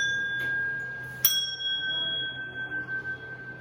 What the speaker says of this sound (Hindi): ये घंटी है जिसमें 5 अलग अलग धातुओं से इनको बनाया गया है।